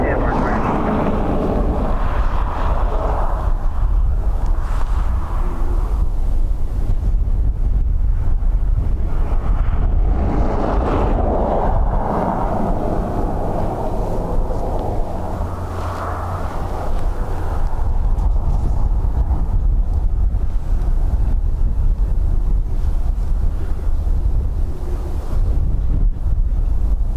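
A strong gusty wind roars across the microphone at Dublin Airport, a loud, continuous buffeting rumble throughout, with speech faintly underneath.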